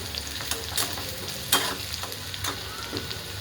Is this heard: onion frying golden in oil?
yes